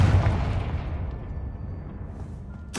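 A Confringo explosive spell cast in Hogwarts Legacy on hard mode, a loud booming blast that rumbles and decays over a couple of seconds, followed by a sharp fresh burst at the end.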